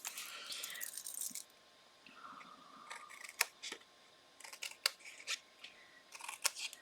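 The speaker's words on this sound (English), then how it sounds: "I am just going to trim these a little bit" Scissors trim paper for a papercraft project, giving a series of crisp, quiet snips in short irregular bursts, close up and otherwise near silent.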